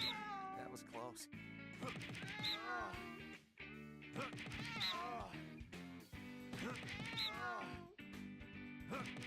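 A cat in the video game No More Heroes 2 meows repeatedly in drawn-out, wavering cries, mixed with game music and other voices throughout.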